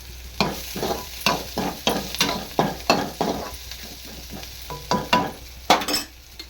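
Vegetables with coriander frying in a pan, a soft sizzle broken by a steady series of scraping stirs, about a dozen strokes, close and fairly loud.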